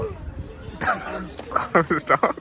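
A native Indian street dog at a village temple gives several quick barks and yips in a rapid burst, close by, while people talk over it.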